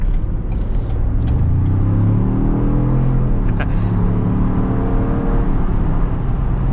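A Ford Bronco with the 2.7 V6 accelerates, its engine note rising in a loud, close rumbling sweep that climbs in pitch, eases, then climbs again over steady road noise.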